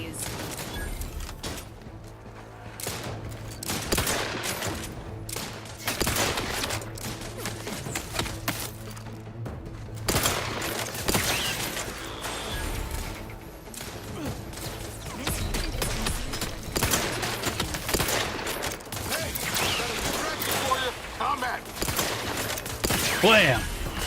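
Rapid bursts of gunfire and thuds from combat in the video game Fallout: New Vegas, sounding dense and continuous through the whole stretch with sharp impacts, while a person talks now and then.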